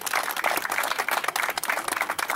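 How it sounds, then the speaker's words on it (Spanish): At a community soup kitchen aid event, a gathered crowd gives a hearty round of applause, a moderately loud, pulsing wash of many hands clapping together that rises and dips slightly throughout. "Un fuerte aplauso para todos ellos."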